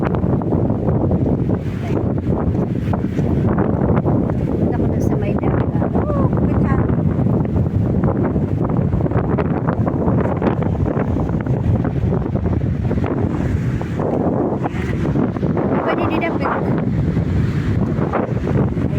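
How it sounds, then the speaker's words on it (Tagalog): Strong sea wind at Baybay Boulevard, Borongan, Eastern Samar, roars and buffets the microphone continuously, a dense rumbling rush that barely lets up, with a hint of water or surf underneath. "Kapit hangin! Sarap ang hangin guys, presko."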